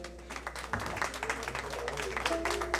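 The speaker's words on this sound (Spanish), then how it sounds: "Lisbeth Lima, señores, un aplauso para" An audience at a tribute event applauds a guest, quiet scattered clapping running steadily for a few seconds, fairly distant and faint.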